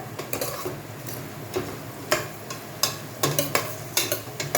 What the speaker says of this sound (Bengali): হালকা হাতে নেড়ে রান্না হতে দিচ্ছি